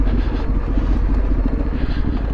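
A Yamaha Tenere motorcycle rolls down a rocky trail, its engine a steady low rumble close by, with the drone holding even and unbroken throughout.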